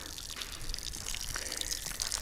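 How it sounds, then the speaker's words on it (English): A public water fountain runs near Bagrati Cathedral on a hilltop in Kutaisi, Georgia, its close, continuous splashing and trickling broken by brighter drips and spatters. "I'm extremely grateful for this water fountain."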